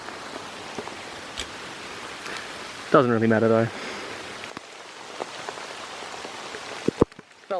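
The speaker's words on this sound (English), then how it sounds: "Caught out in the rain." Steady rain patters on surfaces during a wet spring hunt in New South Wales, a continuous soft hiss throughout, broken by a short spoken remark and a few nearby knocks and rustles.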